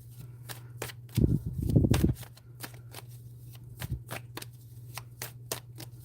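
Playing cards are shuffled close by in two quick riffle bursts, followed by quieter scattered taps and soft handling sounds under a low steady hum.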